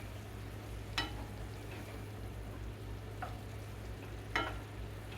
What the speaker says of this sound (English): I'll stir this up a little bit. Get that lime juice all over it.